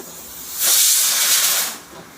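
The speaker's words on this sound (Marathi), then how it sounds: "कुकरला शिट्या होत आहेत" A single loud burst of hissing steam lasting about a second, rising abruptly and cutting off, from a pressure cooker whistling while cooking chickpeas.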